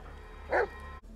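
A single dog bark in the Blair Witch video game, one short bright burst over a steady low background hum, fairly close and moderately loud, with no talking.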